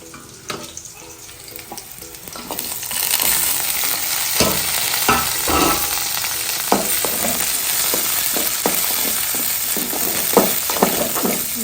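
Onions and curry leaves fry on a high flame in a pan, a steady broadband sizzle rising after a quieter start, broken by repeated scraping stirs, close and loud, with no talking.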